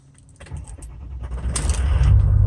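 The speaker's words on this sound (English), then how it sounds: "let's see how she fires up on a cold start" A 2006 Ford F350 dually pickup truck on a cold start: a few clicks and rattles, then the engine turns over and catches into a rising, close, deep rumble that builds and holds.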